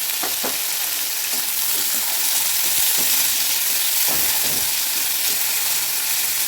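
Steady sizzling and crackling of chopped, washed onions frying in a pan until softened, with occasional clinks and scrapes of stirring throughout.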